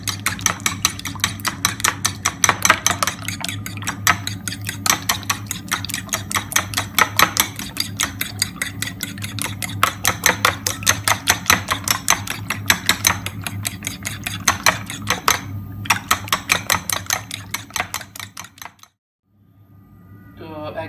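Raw chicken and black pepper powder are worked together in a bowl, giving steady rhythmic clinks and scrapes of a utensil for most of the clip before a brief silence near the end.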